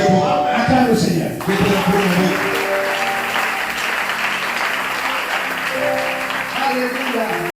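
A church congregation applauds and cheers in praise during a French-language worship service, a dense, sustained wash of clapping and voices that fills the whole stretch, with a lead voice briefly audible at the start.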